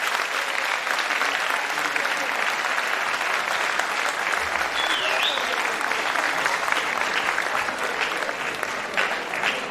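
Steady, dense applause from a theatre audience fills the hall after a show's closing bows, loud and continuous throughout with faint crowd murmur underneath.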